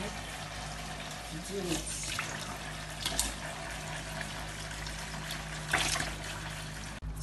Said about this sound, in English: So now I'll be washing my roundabout or shaki.